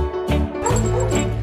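A Russian border collie on a walk gives a short run of close yips and whimpering barks, loud and excited, over a brief moment with no clear talk.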